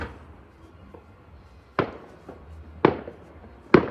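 Fireworks bursting at a New Year celebration: three sharp, loud booms spaced about a second apart after a fainter pop, each with a short crackling decay over a quiet background.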